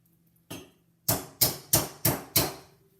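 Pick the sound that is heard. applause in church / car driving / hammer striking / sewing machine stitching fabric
hammer striking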